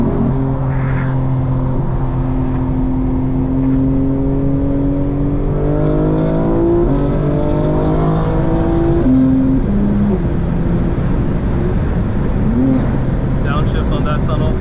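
A 2024 BMW M4 driving through an Atlanta city tunnel, its engine loud and close as it revs up in a rising tone, then steps down through quick downshifts over steady road rumble.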